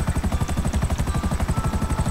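A helicopter in GTA 5 Online produces a steady, rapid rotor thump, loud and close, beating in an even rhythm with no talk over it.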